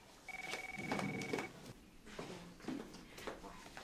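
A telephone rings indoors in two bursts of electronic tone at moderate volume, with people talking over and between the rings.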